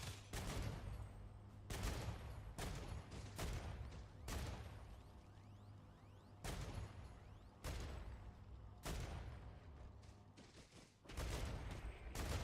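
Turrets in the video game StarRupture fire at swarming spiders: repeated bursts of rapid gunfire in clustered volleys with brief pauses between them, fairly faint and distant in the mix, with no talking.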